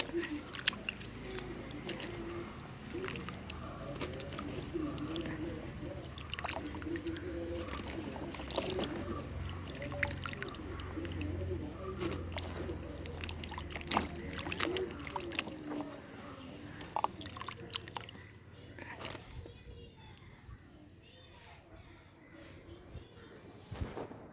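Fresh turmeric roots being washed by hand in water, with soft continuous sloshing, splashing and rubbing that fades near the end, faint and close.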